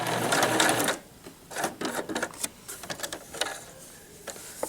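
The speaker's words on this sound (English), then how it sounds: "Hold down your reverse stitch switch and back stitch 3 stitches. And then go forward to the end." Sewing machine stitching a Kleenex cozy, with a short burst of back stitches followed by forward sewing in quick, uneven runs of mechanical clatter, close and fairly quiet.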